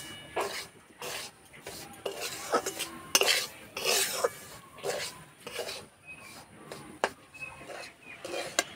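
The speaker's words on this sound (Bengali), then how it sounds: "এই যে সুজিটা ভাজা হচ্ছে" Semolina scraped and stirred in a pan while it roasts, a spoon clinking and rasping against the metal in irregular bursts, close and fairly loud, with no sizzle beneath the scraping.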